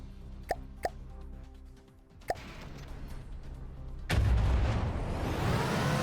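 A cram cannon shell fires in the From The Depths video game: a few sharp pops and a heavier bang come early, followed by a loud, sustained roaring burst that carries on to the end, with no talk.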